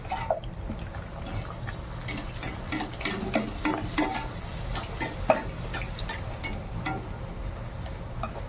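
Bhatura dough puffing in hot oil for chole bhature, a steady low sizzle with scattered sharp ticks and pops, close by and without talk.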